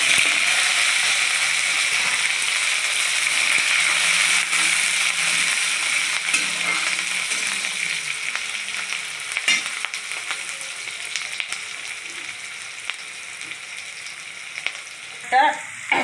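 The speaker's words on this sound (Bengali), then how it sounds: "এবার এই যে কাঁচা লঙ্কা ঢেলে দিচ্ছি।" Green chillies and garlic sizzle steadily in a hot pan, a continuous bright frying hiss with occasional stirring clatter, close and fairly loud throughout.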